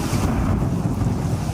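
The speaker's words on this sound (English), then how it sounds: "a torrent of water came flowing down a street" A torrent of floodwater flows down a street in the Crystal Valley, a loud, continuous rushing roar with heavy low rumble and wind-like hiss throughout.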